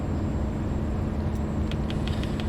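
A truck engine in Euro Truck Simulator 2 drones steadily at close range, a constant low rumble with a faint high whine and a few light clicks near the end.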